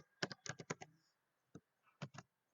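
Fairly quiet typing on a computer keyboard as a C program is entered, a quick burst of clustered keystrokes followed by a pause and a few sparse taps.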